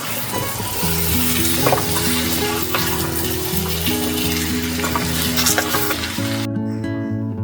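Pumpkin pieces sizzle loudly in a frying pan as they are stirred with spices, a continuous close crackle with stirring scrapes, backed by a steady musical tone and no speech.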